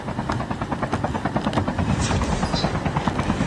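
Helicopter rotor in the Call of Duty Mobile video game, a steady rapid chopping thump with a continuous engine whine, loud and close throughout.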